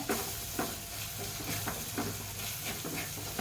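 Fish curry masala frying in a pan while being stirred, a quiet steady sizzle broken by regular scraping strokes of the spoon, close and alone without talk.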